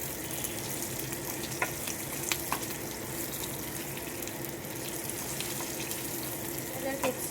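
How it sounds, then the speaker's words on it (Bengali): Diced capsicum fries with onion in a pan, producing a steady, dense sizzle throughout with occasional light clicks of a stirring spoon, close and continuous with no talk. "চৌকো করে কেটে রাখা ক্যাপসিকাম দিয়ে দেবো, সেটাকেও পেঁয়াজের সঙ্গে ফ্রাই করতে লাগবে।"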